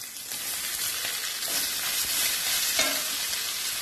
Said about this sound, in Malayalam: ഈ സവാള മുഴുവനായിട്ട് ഇതിൽ കിടന്ന് നല്ല രീതിയിൽ നല്ല ബ്രൗൺ കളറാകുന്നിടം വരെ ഇത് നമുക്കൊന്ന് വഴറ്റിയെടുക്കാം.